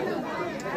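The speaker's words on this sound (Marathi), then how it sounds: "पण आता हे उतरण्यासाठी गर्दी भरपूर आहे" Thick, continuous crowd chatter from a packed throng of devotees descending at Jejuri Khandoba temple, a close and busy murmur of overlapping voices.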